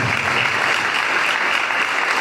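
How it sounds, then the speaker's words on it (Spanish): Dense, steady applause from a large crowd at a regional church congress in La Pampa, Argentina, loud and continuous throughout with no gaps. "Dale un fuerte aplauso al Señor en esta tarde"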